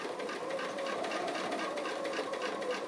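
Sewing machine running steadily while stitching an appliqué outline around a scissors design and its handles, a continuous close whirring hum with no talk.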